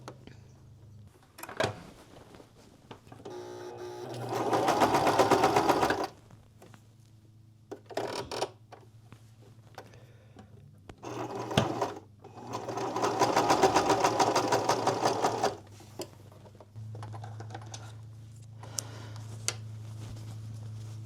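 A sewing machine, fitted with a new presser foot after a broken needle, stitches fabric scraps for a loon bag, in two sustained loud bursts of rapid whirring with quieter handling noises between them.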